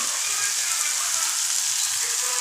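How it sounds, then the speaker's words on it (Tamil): Tomatoes sautéing over low heat in a pan while cooking a manathakkali greens kadayal, giving a steady, even sizzle that continues without break. "சிம்மில் போட்டு இவங்களை நல்லா வதக்கிக்கலாம்."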